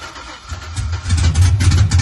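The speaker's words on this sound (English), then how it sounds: "Alright, fire it up then." An LS-swapped OBS truck engine turns over and catches, settling into a low, steady rumble that grows louder and rougher toward the end.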